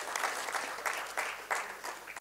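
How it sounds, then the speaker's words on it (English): Audience applause welcoming a speaker at the inauguration of a summit in India, a steady wash of clapping with a few louder swells, fairly quiet and even throughout, with no talk over it. "let's welcome her with a huge round of applause"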